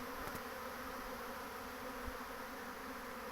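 Honeybees swarming from a hive in May, a steady, dense buzzing drone of many insects flying around close by, continuous and fairly faint with no talk.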